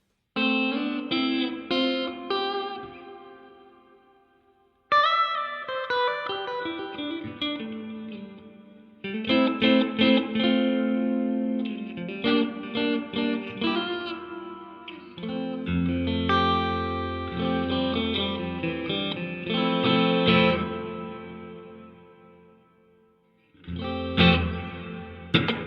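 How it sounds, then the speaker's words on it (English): Electric guitar chords through a Donner digital reverb pedal with room reverb at maximum, each strum ringing out into a dense lingering tail, with short pauses between phrases. "I find room reverbs turned all the way up sound pretty unnatural"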